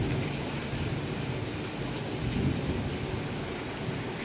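Steady heavy rain falling on a rainy day in a countryside village, with low rumbling thunder rolling continuously underneath, a close, constant wash of sound with no talking.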